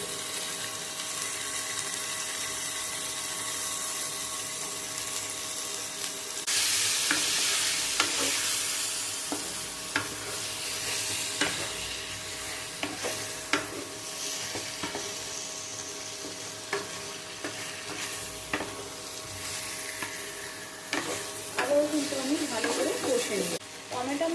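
Spicy mutton curry fries over a high flame with a chopped tomato added, a long stretch of sizzling with repeated spatula scrapes and knocks, a louder hiss flaring partway through, and a voice speaking over it at times.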